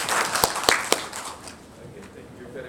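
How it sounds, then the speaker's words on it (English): Brief applause from a veterinary seminar audience, with a few sharp claps standing out at first before it thins into a quieter room murmur. "Berikan applause"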